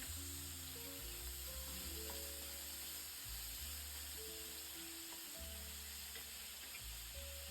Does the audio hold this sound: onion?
yes